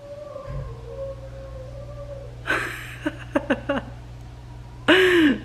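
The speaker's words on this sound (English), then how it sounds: "singing in the shower again, if you guys can hear him in the background" Muffled male singing from another room comes in short warbling bursts, with pauses between phrases, over a steady low background hum.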